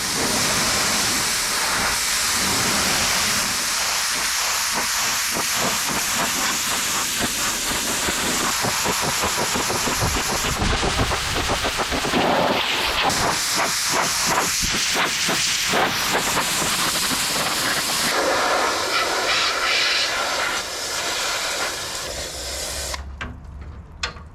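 A 1979 Ford Ranchero GT that sat for 20 years gets a quick water rinse, a loud continuous hissing spray that shifts in intensity as the stream moves across the body, then cuts off near the end.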